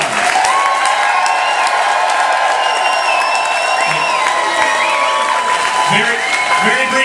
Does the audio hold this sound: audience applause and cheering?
yes